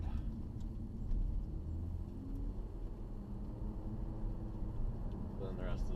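Inside a 2012 Ford Fusion Sport with its resonator deleted, a low, steady exhaust and road drone fills the cabin quietly while someone talks over it.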